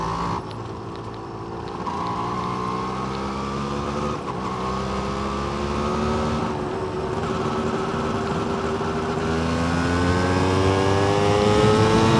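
A Yamaha DT motorcycle engine climbs an uphill road at about 3,000 RPM, its steady drone rising slowly in pitch and loudness as the revs build, with no talking.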